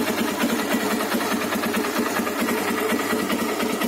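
A carbureted engine with a 35 idle jet, 105 main jet, needle in the middle position and a new clean air filter runs steadily with a rapid pulsing chatter, close and fairly loud, with no voices over it.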